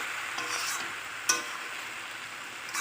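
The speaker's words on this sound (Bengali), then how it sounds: "এই যে পোস্ত আর সর্ষে দিয়ে আমি একটু নেড়ে চেড়ে নেব।" Poppy seed and mustard paste is stirred in a pan, giving a steady soft sizzle and scraping with one sharp clink of the utensil partway through.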